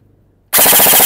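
An SRC Falcon airsoft AEG rifle fires full auto. After a near-silent gap, a loud, close burst of rapid cracks starts abruptly and runs to the end.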